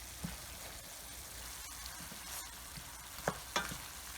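Steady frying sizzle of chicken in a pan over medium heat, with a few scraping stirs and clinks of a utensil scattered through.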